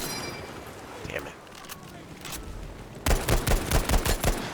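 M1 Garand rifle fire in the video game Battlefield V comes as a quick, sharp series of loud shots near the end, following game ambience, while someone talks.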